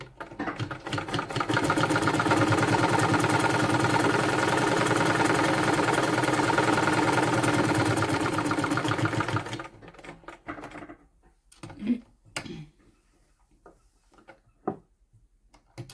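A sewing machine runs in a steady, fast stitching burst for about nine and a half seconds while a tight-fitting suit is taken in at home, then stops, leaving a few faint handling clicks and rustles.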